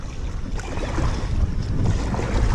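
Strong wind roars steadily into the microphone on open water while a small fishing boat is rowed, with broadband gusting noise and low rumble throughout and no voices.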